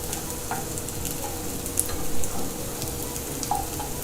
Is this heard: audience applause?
no